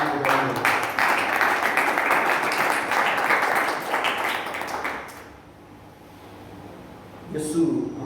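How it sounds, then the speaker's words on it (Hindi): Loud, dense applause from a church congregation honoring the Prince of Peace during a Hindi-language sermon, sustained for about five seconds before fading, then a short burst returns near the end. "उस शांति के राजकुमार के लिए जोरदार ताली बजाइए।"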